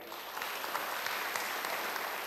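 Congregation applauding during a church worship service, a steady dense clatter of many hands clapping that holds evenly throughout at moderate volume with no speech.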